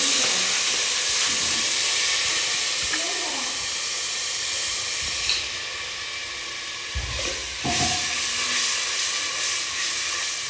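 Spice paste hits browned onions in a hot pan with a loud, steady sizzle and hiss, then a few clanks of a spoon, while someone talks over it.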